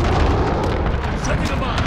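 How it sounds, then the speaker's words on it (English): Cruise missile strike in Call of Duty: Modern Warfare (2019): a loud, dense, continuous roar of explosive rumble and blast debris that fills the whole short stretch without letup. "Allied cruise missile away."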